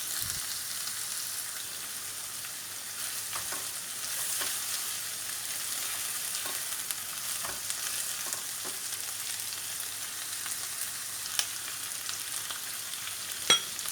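Frozen peas and sweet corn sautéing in a pan with mixed-colour peppers for white sauce pasta, giving a steady, soft hiss with a few scattered clicks and scrapes from stirring and no voices.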